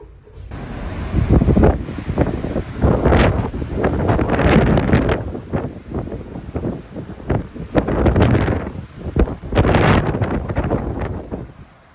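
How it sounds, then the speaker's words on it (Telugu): Strong wind gusting outdoors on a rainy day in Vietnam, roaring broadband buffets that swell and fade in repeated bursts across the clip, loud and close against the microphone with no talking. "చాలా గట్టిగా గాలి అన్నీ వస్తున్నాయి."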